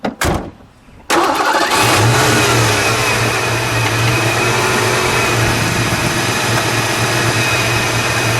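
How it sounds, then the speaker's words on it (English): After a moment of quiet, a 1986 Ford Mustang GT convertible with a 5.0-liter V8 and five-speed cranks and fires up with a sharp burst, then settles into a steady, loud, rumbling idle that continues to the end. "Let's fire it up, shall we? We'll let it idle for a second."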